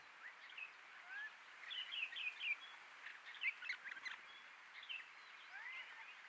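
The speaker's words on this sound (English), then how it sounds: "White-crested laughing thrush, of course. Such stunning birds" White-crested laughing thrushes calling at Huaycayeng Nature Park, a steady stream of bright chirps and whistled notes, some clustered in quick bursts, at moderate distance over a soft background hiss.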